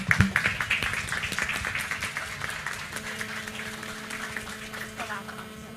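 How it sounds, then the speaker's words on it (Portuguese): An audience claps for a woman invited to the front at a panel debate, starting sharp and then tapering into lighter scattered claps, with talk faintly underneath. "Palmas para a Ana, por favor."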